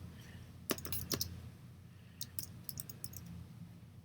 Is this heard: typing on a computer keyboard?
yes